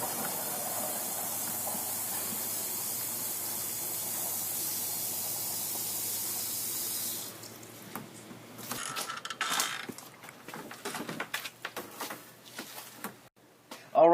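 A spray bottle hisses a citric acid wash onto salad greens in a steady, continuous spray for several seconds, then stops, giving way to quieter handling and rustling noises.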